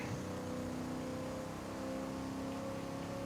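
HSV race car engine in Assetto Corsa accelerating, a steady droning whine that climbs gradually in pitch as the revs build, continuous and up close with no talking.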